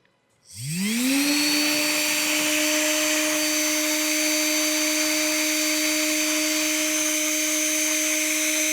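A DC motor powered from an adapter spins up quickly and then holds full speed with a loud, steady whirring whine and constant tone that fills the rest of the clip without any talking.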